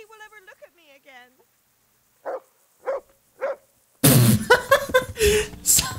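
A dog in a video game gives three short, evenly spaced barks at moderate volume. Loud overlapping talk and game noise follow.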